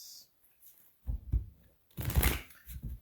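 Two quick riffles of tarot cards being shuffled close by, each a short papery burst, in a quiet room.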